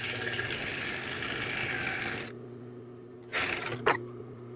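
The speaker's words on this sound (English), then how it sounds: "so I'm gonna serge it exactly the same" A serger stitches along the edge of a hooded flamingo towel, a steady dense mechanical whir that stops partway, followed after a pause by a couple of short bursts of stitching.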